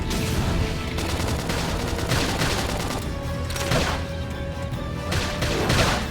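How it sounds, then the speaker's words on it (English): In Xenoblade Chronicles X combat, a flame grenade attack sets off a continuous loud barrage of crackling blasts and heavy impacts, dense and close with surging peaks and no clear talk. "Flame grenade!"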